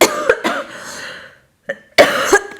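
Someone coughs several times in dry, harsh bursts, with short pauses in between, close to the microphone.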